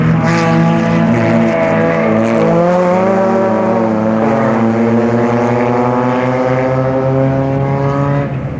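Neon race cars with Chrysler engines howl around a track together, a loud sustained multi-engine drone with pitches rising and falling as they pass close by, no voices.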